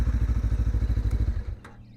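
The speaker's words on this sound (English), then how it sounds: "You just hit the start button and it fires up." A 2025 Lifan KPT 400cc motorcycle engine runs close by with a loud, rapid, even thumping idle, then quickly drops away into near quiet.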